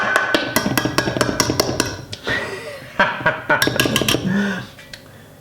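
Black beer bread dough is stirred with an unsuitable utensil, producing rapid clattering taps and clinks against the bowl in irregular bursts, with a brief chuckle and muttering between them.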